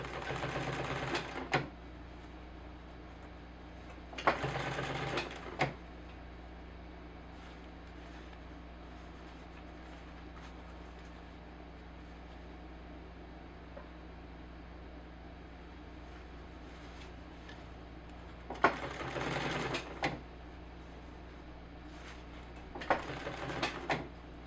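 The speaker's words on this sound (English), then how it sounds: "keep on sewing." A sewing machine stitching in a replacement zipper on a jacket, running in several short bursts of rapid mechanical chatter with quiet pauses between, close up and without speech.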